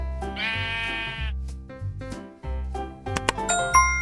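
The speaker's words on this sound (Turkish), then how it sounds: "Sıradaki hayvan koyun." A sheep bleats loudly in a wavering cry, with chiming ding-dong tones and bright jingles playing around it.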